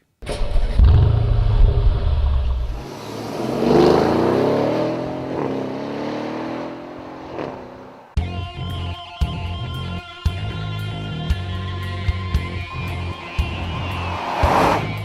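The petrol engine of a Mercedes-Benz GL63 AMG roars loudly as it accelerates, rising in pitch through the gears, before giving way to rhythmic music with sharp beats.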